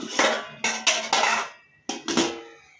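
A metal lid clatters onto a cooking pot during dum cooking in a home kitchen, giving two or three close, bright clanks with short ringing decay, free of talk.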